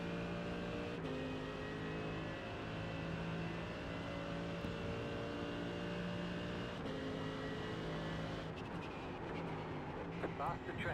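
Engine of a race car in a sim racing game, a steady droning whine with shifting tones as faster traffic closes in, continuous and fairly loud throughout.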